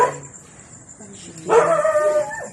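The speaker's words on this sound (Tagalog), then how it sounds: "Yung aso sa labas, napakaingay kasi ang dilim." A dog outside at night gives a short yelp, then a longer run of barking and yipping, with some voice-like sound mixed in, heard from a tent.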